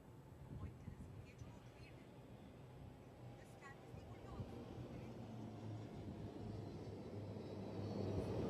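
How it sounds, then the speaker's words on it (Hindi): A HAL-built Dornier aircraft passes overhead during the INS Vikrant commissioning ceremony in Kochi, a steady broadband engine drone that swells louder toward the end, with a voice talking over it. "अब आ रहे हैं हिंदुस्तान एरोनॉटिक्स लिमिटेड द्वारा निर्मित डॉर्नियर विमान"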